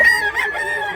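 A white rooster, about a year old, crows loudly and close in a single strained call that fills the brief moment.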